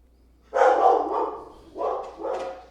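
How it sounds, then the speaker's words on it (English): A dog barks in three close, loud bursts, the first longer and the next two shorter, with no other sound around them. "Sorry, my dog's barking."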